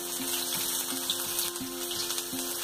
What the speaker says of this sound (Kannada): ಹಾಗೂ ಹಸಿಮೆಣಸನ್ನ ಹಾಕಿ 1-2 ನಿಮಿಷ ಅದು ಕ್ರಿಸ್ಪ್ ಆಗೋವರೆಗೆ ನಾನು ಫ್ರೈ ಮಾಡ್ಕೊಳ್ತೀನಿ